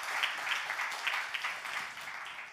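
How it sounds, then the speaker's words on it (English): Audience applause from a crowd at a panel discussion event, a steady, dense wash of clapping that holds at moderate level throughout without any speech over it. "Mairead McGuinness, please give her a round of applause of appreciation"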